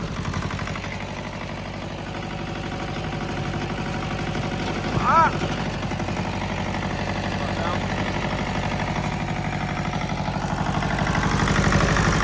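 A John Deere tractor idles with its hydraulics running: a steady, close, mid-to-low engine drone that holds constant throughout, with a brief whine near the middle.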